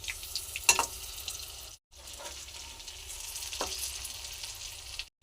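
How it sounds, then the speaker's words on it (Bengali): Fish roe fritters made with gram flour fry in oil with a quiet, steady sizzle, broken by a couple of sharp utensil clinks and a short drop in sound. "মাছের বড়া ভাজা রেডি, তুলে নেব।"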